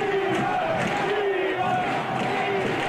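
Handball spectators in an arena jeer and chant at the referees, a dense continuous roar of many voices with rising and falling shouted calls throughout.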